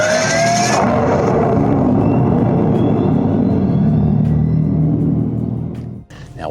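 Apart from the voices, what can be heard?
2025 Dodge Charger Daytona EV starting up, jet-like exterior speaker sound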